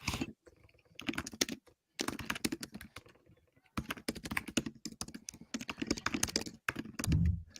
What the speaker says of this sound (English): We can hear you typing super loud.